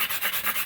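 Harsh rasping grind of a tool working against stone, pulsing in short repeated strokes, close and fairly loud with no talking.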